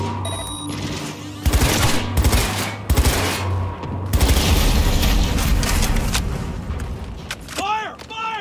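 Heavy automatic gunfire from a Cyberpunk 2077 firefight, sharp loud bursts and booming impacts stacked in quick succession, with a shouted voice in the mix.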